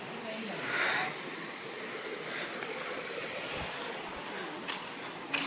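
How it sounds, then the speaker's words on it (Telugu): A small waterfall at Talakona, water flowing and splashing in a steady broadband rush, close and continuous, with a few faint knocks. "చిన్న వాటర్ ఫాల్స్, నీళ్ళు పోతున్నా"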